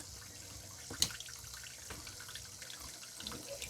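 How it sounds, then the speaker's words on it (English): Tap water runs steadily at a stone carving station set up for carving jasper, a soft continuous hiss with a single sharp clink near the start, faint and close. "So first thing we're going to do is get the water going"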